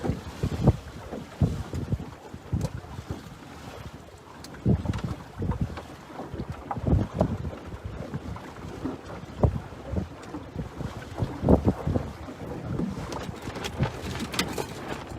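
Stiff wind buffets the microphone aboard a small sailboat, gusting loudly in uneven bursts with rumbling thumps and faint water sounds beneath, and no talk.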